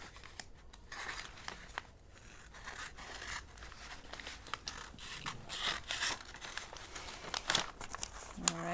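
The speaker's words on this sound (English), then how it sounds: "Folded that down, and now you're gonna cut it." Close crinkling and scissor snips as folded paper is cut to cover a book, with irregular crisp rustles and cuts while people chat quietly in the background.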